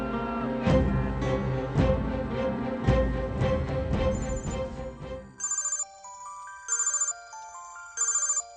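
A phone ringtone chirps in repeated short melodic bursts, clear and alone after film music fades out.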